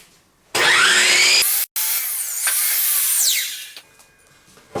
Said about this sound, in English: We are going to be using this chop saw here.